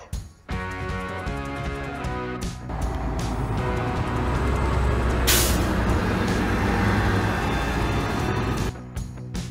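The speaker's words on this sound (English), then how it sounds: "Bus." A bus idles and revs with a low engine drone, then gives a sharp, loud hiss of air brakes midway before the engine settles again; it is heard close up and alone.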